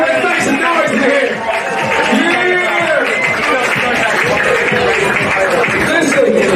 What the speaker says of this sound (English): please give our kids a round of applause, please